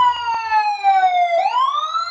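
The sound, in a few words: police siren approaching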